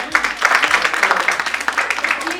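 A room of attendees claps for a student returning to her seat at a salon makeup class event, dense even applause lasting a couple of seconds, with a faint voice underneath.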